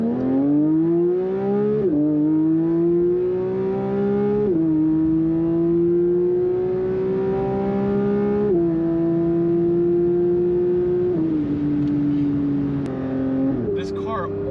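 A Porsche 992 GT3 with a loud exhaust accelerates hard along a highway, its engine note climbing steadily through several gears with brief dips at each shift, close and dominant for the whole stretch, with a voice faintly underneath.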